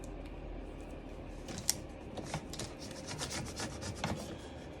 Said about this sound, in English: I'm just gonna burnish it really good to try and get the letters off